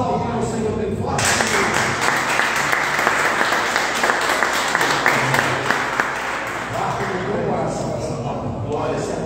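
A church congregation breaks into loud, vigorous applause after a brief spoken moment, the clapping dense and sustained before easing slightly near the end, with voices mixed in.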